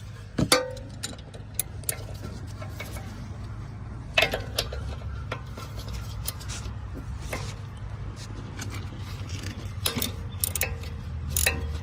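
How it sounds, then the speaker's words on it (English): A 12mm socket wrench works on a 12mm bolt holding a brake line on a 2020 Acura ILX during a spring install, giving scattered sharp metallic clicks and ratcheting ticks over a steady low hum, close by, with no talking. "we're gonna be using the 12mm socket to try and get this 12mm bolt to move"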